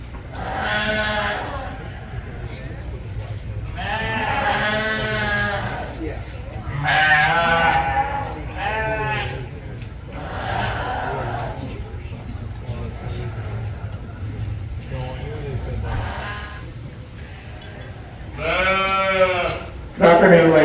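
Sheep bleat repeatedly at a 4-H sheep show, loud nearby calls coming in bursts every couple of seconds over a steady background hum.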